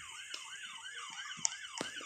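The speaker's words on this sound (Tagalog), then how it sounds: "nandyan ang ambulansya" An ambulance siren wails in a repeating rising-and-falling pattern near a market street scene, steady and moderately loud across the whole stretch, with scattered background noise.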